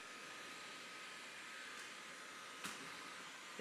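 A heat gun warming Hexis HX20000 vinyl wrap on a car body gives a steady, soft airy blowing hiss with a faint tonal whine, and one brief louder puff partway through.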